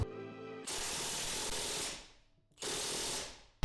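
A rapid mechanical ratcheting clatter as a fastener spins to press in a wheel bearing, in two close bursts, the first long and steady, the second shorter, with a brief quiet gap between.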